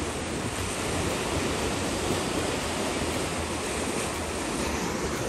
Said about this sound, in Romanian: Ia uite aici ce valuri.